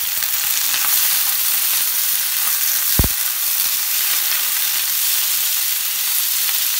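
Soaked chickpeas frying with onion and green chili for a Bihari-style ghugni give a steady, close, loud sizzle, broken by one sharp utensil knock.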